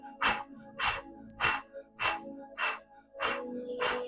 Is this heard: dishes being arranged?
no